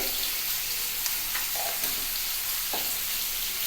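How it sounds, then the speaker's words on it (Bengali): Soft, steady sizzle of onions frying in oil with turmeric, with a couple of light utensil taps and stirring scrapes. "পেঁয়াজটা বেশ লাল লাল করে ভাজা হবে"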